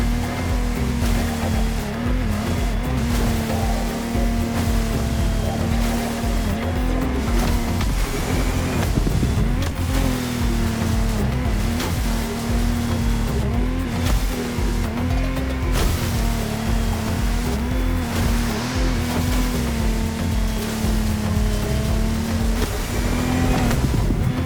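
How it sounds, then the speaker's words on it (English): Boats race through rough, heavy waves in The Crew Motorfest, with a steady engine drone and continuous crashing surf and spray, loud and close throughout with no talking. "I mean, look at these waves."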